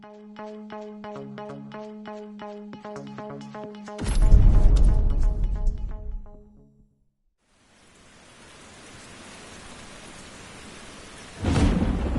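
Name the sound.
thunderstorm and rain in a driving video game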